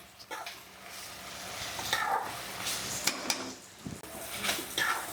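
Mutton goes into a pan with ginger paste and softened onions, setting off bursts of sizzling and frying alongside clattering utensil scrapes and pot knocks, uneven and close.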